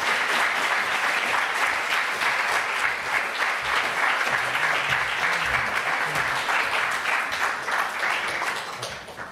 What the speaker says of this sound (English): let's give a roaring applause to our guest of honor, Gosta Esping-Andersen